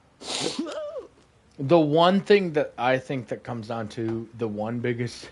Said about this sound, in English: sorry, I'm sneezing